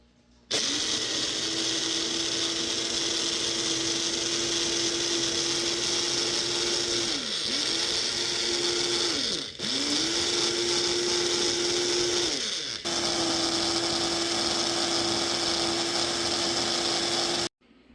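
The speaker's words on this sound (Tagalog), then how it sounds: "yung dry leaves i-blender na natin" A blender grinds dried moringa leaves steadily and loudly with a whirring motor hum, briefly dipping in pitch twice as the load shifts, then running on until it stops.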